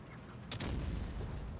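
A tank cannon firing in World of Tanks Blitz, a single sharp boom with a rumbling low tail over steady game background noise.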